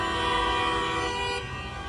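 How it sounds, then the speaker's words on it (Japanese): A tram's horn blares loud and close on a street in Samarkand, Uzbekistan: a sustained, steady honk that holds for about two seconds, then drops slightly in level near the end. "ですんごいクラクション。"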